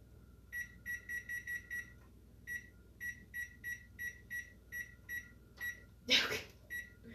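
Oven timer being set, giving a run of short, clear electronic beeps in quick groups of three to five, with a brief louder rustle or clatter near the end and a quiet background hum.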